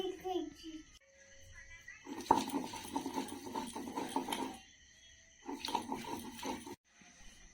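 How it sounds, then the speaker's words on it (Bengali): Knife chops onions and chillies on a board in two rhythmic bursts of rapid, close tapping strokes, separated by quieter pauses, with faint background voices. "আমি পেঁয়াজ আর লঙ্কাটাকে কেটে নিচ্ছি।"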